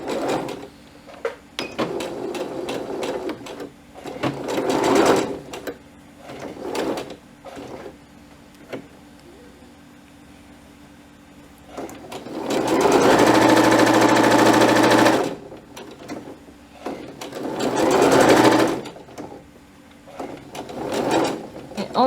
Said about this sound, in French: Alors début de la couture avec un point d'arrêt.